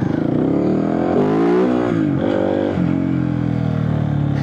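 A Kove 450 Rally motorcycle set up for Dakar-style rallying revs hard up close, its engine note climbing and dropping through several loud blips in a continuous throaty roar.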